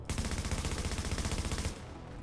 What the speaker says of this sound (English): Like you can see here, for example, the recoil of the police M4.